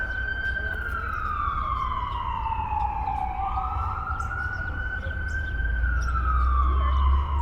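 A siren wails in a smooth rising and falling sweep, loud and steady, over constant low traffic rumble on a busy street in Washington, D.C., with no talk.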